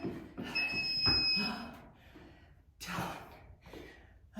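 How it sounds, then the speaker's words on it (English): A workout interval timer buzzer sounds during a HIIT session: a steady electronic tone holds for about a second, surrounded by heavy breathing and gasps from the exercisers. "Let's turn this buzzer off"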